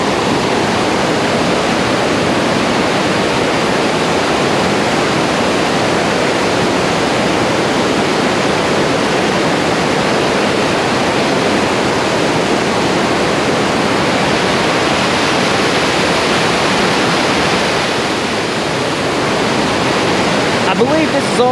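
Broadband roar of a waterfall at Bald River Falls near Tellico Plains, Tennessee, heard up close as a steady, loud rush of water with no letup.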